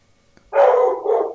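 An Australian Shepherd dog lets out a single loud, sustained bark-growl close by, lasting about a second after a brief quiet lead-in.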